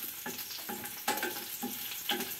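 Garlic and onion sauté in hot cooking oil, a close crackling sizzle with repeated stirring scrapes in a quick, uneven rhythm.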